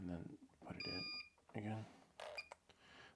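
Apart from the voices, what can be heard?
electronic device beeping when plugged back in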